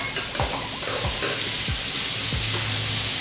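Onions, garlic and chili sizzle loudly in a hot pan, a steady close hiss broken by a few soft stirring scrapes and knocks.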